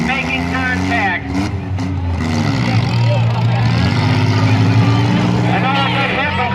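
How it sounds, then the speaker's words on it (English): Demolition derby cars at a Wayne County, New York heat race grind and rev loudly in the arena, a steady dense engine roar with crowd and announcer-like talk layered over it. "All 4 drivers in the middle of the track are still moving, still running, making contact"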